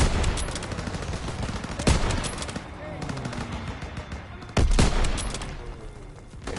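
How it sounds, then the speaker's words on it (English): Flak anti-aircraft gun firing in the Call of Duty WW2 video game, two heavy booming shots spaced a few seconds apart over a dense, continuous din of battle. "There's the flak gun."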